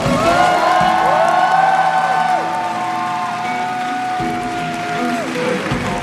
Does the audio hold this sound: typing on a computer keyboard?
no